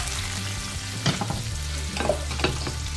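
Catfish pieces frying in hot oil, a steady close sizzle with a few sharper crackles and pops breaking through a low continuous hiss.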